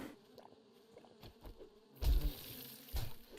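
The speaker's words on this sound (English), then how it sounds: "Oh crap, bees!" Bees buzz in the survival video game 7 Days to Die: a steady insect drone that swells louder midway, punctuated by soft thuds and bursts, with no one speaking.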